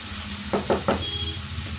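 Ivy gourd (dondakaya) being stirred as it fries in a pan with turmeric and salt, a continuous sizzle with three sharp scraping strokes of the spoon.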